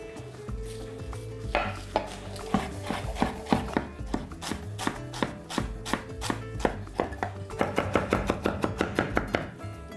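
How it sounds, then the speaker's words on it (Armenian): Fresh mint leaves and other greens being finely chopped with a knife on a cutting board, rapid close rhythmic knocks that speed up into dense bursts, no speech. "կանաչու հետ մանր կտրատում ենք"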